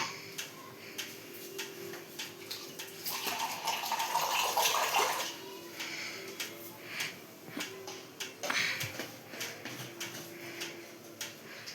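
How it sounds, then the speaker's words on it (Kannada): Water poured into a masala puri mixture of ground cashew paste in a home kitchen: a soft splashing pour that swells and then fades, surrounded by faint clinks and small kitchen ticks, with no talking. "ಇದೊಂದು ಸ್ವಲ್ಪ ನೀರು ಹಾಕಿ ಹಾಕ್ಬಿಡೋಣ."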